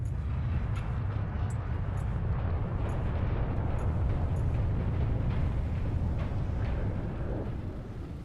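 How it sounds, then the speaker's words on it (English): Inside an underwater base in Subnautica, a deep, rumbling clatter of construction-like machinery churns continuously, loud and steady with faint metallic knocks on top, fading slightly at the end. "Sounds like somebody's doing construction in here"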